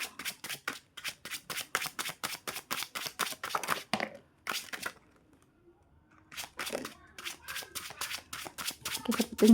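Rapid riffling of a tarot card deck in quick repeated bursts, a pause in the middle, then more shuffling; close and crisp with no talking.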